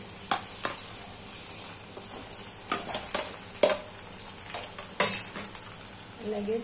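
Roasted eggplant bharit being stirred in a pan with garlic, coriander and onion, giving soft scraping and intermittent clinks of a spoon against the pan over a low sizzle, with a brief spoken word.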